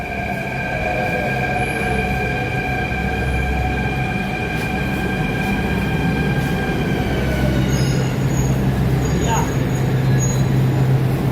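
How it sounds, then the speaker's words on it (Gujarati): A Delhi Metro train pulls into the platform with a loud, steady rumble and sustained electric whining tones. The rumble deepens toward the end as it slows. "આ છે દિલ્હીની મેટ્રો ટ્રેન."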